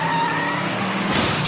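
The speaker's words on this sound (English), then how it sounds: "I'm gonna press the gas pedal and I'm gonna go forward." A cartoon stock car on a NASCAR track revs and pulls forward as the gas pedal is pressed, a loud close engine tone rising briefly with a hint of tire noise.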